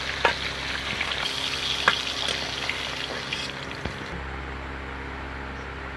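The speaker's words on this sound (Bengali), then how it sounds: "তো মাছের মাথাগুলো আমি ভেজে নেব।" Fish heads frying in very hot oil, a loud, bubbling sizzle with sharp spits and crackles early on, settling into a quieter, steady fry with a low background hum.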